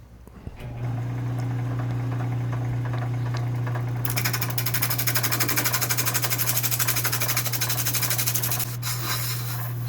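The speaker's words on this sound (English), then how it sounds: "Thought I'd use my spindle gouge. Seems like the appropriate tool. And yes, it's cutting fairly well." A spindle gouge cutting a wood blank into an egg shape on a lathe, a steady motor hum with a fluttering, buzzing cut that grows rougher and louder midway, continuous and close throughout.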